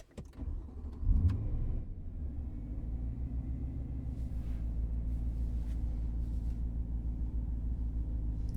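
Steady low engine rumble of a car heard from inside the cabin while driving, with a brief louder thump early on before settling into a constant hum.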